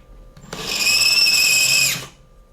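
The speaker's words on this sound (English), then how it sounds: "So just do that all at once while you're using the power of the drill." A power drill spins up close and loud, whining steadily for about a second and a half while smoothing brass cartridge cases, then winds down.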